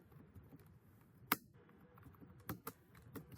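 Quiet keystrokes on a computer keyboard while code is typed, a few scattered sharp clicks with short bursts of taps, alone against faint room noise.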